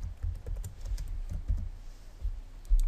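Computer keyboard typing, a light, close patter of soft keystrokes in quick irregular runs, fairly faint, with no talking.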